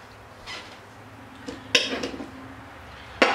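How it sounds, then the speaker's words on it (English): A table knife cuts through a piece of cooked liver on a plate, giving a few light scrapes and clinks of metal against china, with quiet gaps between strokes. "I'm gonna cut this using a table knife,"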